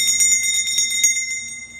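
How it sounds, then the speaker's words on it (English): Bells ring in a cleansing ritual to clear a room, struck in a quick repeating series with bright, sustained metallic tones that overlap and shimmer throughout. "I love bells, by the way."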